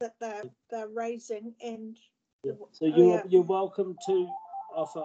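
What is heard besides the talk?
house telephone ringing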